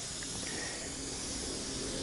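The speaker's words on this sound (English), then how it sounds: "I'm using a fine mist spray to thoroughly soak the tree" A fine mist spray soaks a Fuji cherry bonsai tree, a steady, even hiss that runs unbroken and fairly close, with no talking.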